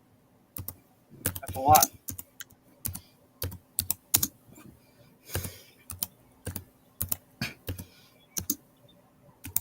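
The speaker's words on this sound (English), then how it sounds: "Why she's got a noisy keyboard?" Clacky keys on a noisy computer keyboard tap in irregular bursts, sharp close clicks spaced through the stretch, with a brief spoken remark near the start.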